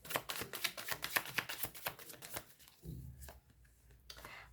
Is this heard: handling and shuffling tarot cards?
yes